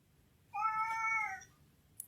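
A small, cute cat gives a single clear, drawn-out meow up close, followed by a brief faint click; no one speaks over it.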